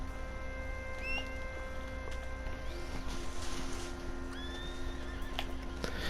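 A horse in Red Dead Online whinnies in a few rising, wavering calls over a steady game ambience with faint hoof clip-clops, mid-distance and fairly clear, with no talk.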